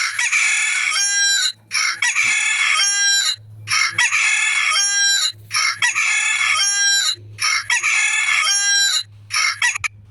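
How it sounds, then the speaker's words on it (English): A rooster crows five times in a steady rhythm, each call loud, long and close, separated by brief quiet gaps. "Thank you, Rooster."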